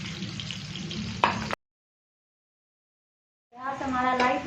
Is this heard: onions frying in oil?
yes